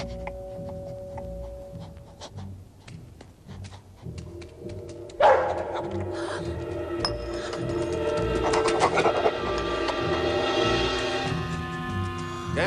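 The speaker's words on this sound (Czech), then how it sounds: "no to je hodnej pejsek, to je hodnej pejsek" A dog barks and yips in short repeated bursts under music and background noise, moderately close.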